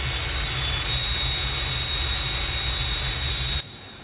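A jet aircraft roars steadily overhead as a sound effect in a Thunderbirds puppet show, a loud sustained engine rush with a thin high whine that cuts off abruptly near the end, leaving a quieter hum.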